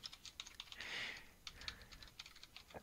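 Quiet, rapid keystrokes on a computer keyboard come in an irregular patter of clicks, with a brief softer rustle in the middle.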